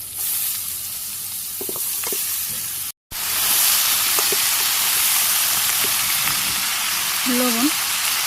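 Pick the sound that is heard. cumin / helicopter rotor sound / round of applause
cumin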